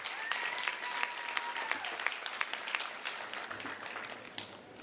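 Audience at a health training centre graduation ceremony applauds a prize collection, steady crowd clapping across the hall that tapers slightly toward the end, with a faint voice underneath.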